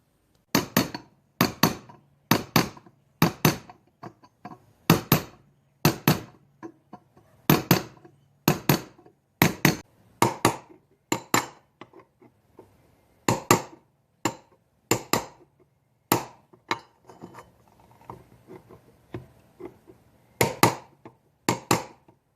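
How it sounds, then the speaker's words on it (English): Hammer and punch tapping steadily to crimp the rim of a Kohler engine shower cap exhaust muffler, sharp close metallic strikes in quick bursts of two to four with short pauses between. "I ended up just continuously tapping it with the hammer and the punch"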